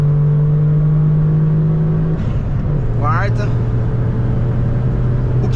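A VW Up TSI tuned to Stage 3 pulls hard through its gears, a loud steady engine drone with a brief drop and pitch change at a shift, then continued acceleration, with talking over it.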